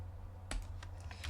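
Quiet typing on a computer keyboard, a short burst of a few soft key clicks over a low steady hum, no talking.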